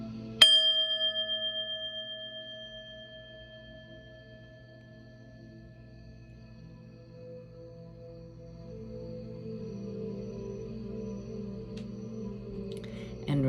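A meditation bell is struck once near the start, ringing out clearly and then decaying slowly over several seconds above a low steady hum.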